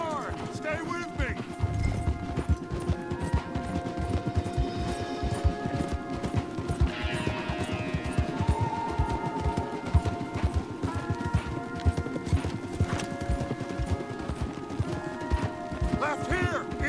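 Horses gallop hard during a chase in the video game Red Dead Redemption 2, a rapid, continuous clatter of hooves with occasional whinnies and voices at times over the drumming.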